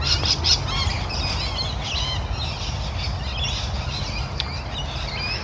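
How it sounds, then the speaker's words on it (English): Loud, constant screeching of a flock of hundreds of lorikeets, overlapping harsh squawks and chirps filling the air. "Hear the hundreds of lorikeets."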